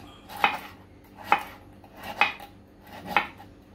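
Four evenly spaced knife cuts through roasted coconut on a board, each a sharp close thunk with quiet pauses between.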